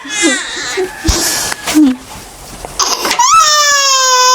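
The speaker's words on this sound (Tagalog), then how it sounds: "Umiiyak talaga siya, guys." A baby cries loudly up close in sobbing bursts that rise into a sustained high wail, with short pauses between cries.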